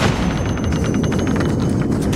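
Rapid gunfire salvos from the Vietnam War video game Shellshock Nam 67 crackle in a dense, continuous burst of loud shots for about two seconds, with no voices.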